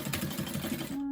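A sewing machine runs a short stitch along a seam on a fabric-scrap sunglasses case, with rapid rhythmic needle ticking for about a second before it stops.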